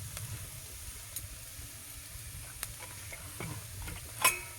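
A spatula scrapes and stirs fried potatoes scattered with poppy seeds and curry leaves in a pan, giving soft intermittent scrapes and clicks over a faint sizzle, with one sharper clatter near the end.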